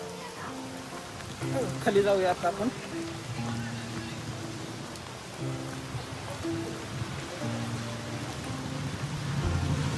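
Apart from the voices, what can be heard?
rain falling at Khadakwasla Dam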